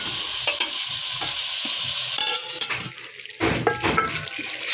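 Tomatoes cook in a karahi for achari chicken, giving a steady close sizzle and bubbling hiss, broken by scraping stirs and clattering handling toward the end.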